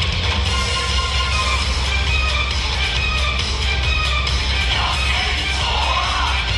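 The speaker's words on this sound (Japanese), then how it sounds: "力士の雄たけびに客たちの歓声が響き渡る。" Sumo wrestlers' battle cries mixed with a cheering crowd during a staged student dance performance, a steady, loud wash of yelling and whoops with no pause throughout.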